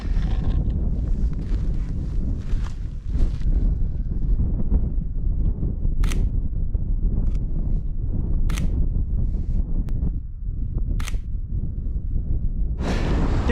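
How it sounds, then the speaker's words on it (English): Gusty wind rushing across exposed mountain terrain in bad weather, a loud low roar buffeting the microphone, broken by a few sharp bright bursts as stronger gusts hit. "The wind has definitely picked up and has not died down."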